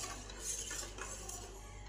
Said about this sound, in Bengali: সিন্দুক নুন আর বিট নুনটাকে ভালো করে মিশিয়ে দিলাম